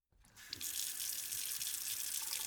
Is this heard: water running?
yes